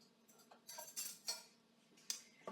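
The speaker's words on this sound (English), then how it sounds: "take a spoon, spatula, fork, whatever you have, and start mixing that up a little bit" A spoon clinks and scrapes against a bowl while stirring sliced apples with sugar, giving a few short irregular metallic taps and scrapes, close and fairly quiet.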